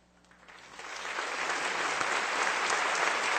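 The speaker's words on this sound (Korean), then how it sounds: "이 시간 잠시 일어나 인사하실 때 성도님들께서는 따뜻한 박수로 환영해 주시기 바랍니다." A church congregation breaks into warm applause to welcome a guest at a Sunday evening service, clapping swelling quickly from sparse claps to a dense, sustained round that carries on without voices.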